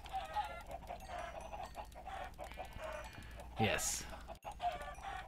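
Chickens cluck in a video game, rapid repeated clucks running through the clip with one louder squawk near the middle, over steady game background sound, and someone says a brief word.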